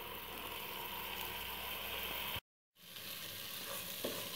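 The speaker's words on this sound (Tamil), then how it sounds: "இப்போ மட்டன் வேக வச்ச மட்டன் சேர்த்திக்கலாம். நல்லா வணக்கிட்டு" Boiled mutton sautéing in masala for an Indian-style mutton biryani, a steady close sizzle and fry that cuts to a brief silence midway, then resumes with occasional stirring knocks.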